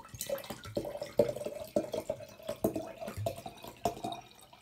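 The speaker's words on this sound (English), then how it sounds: "And I'm going to do that by filling the jar with water." Water being poured into a glass jar, a close, irregular trickle and splashing with uneven gurgles, continuing steadily throughout.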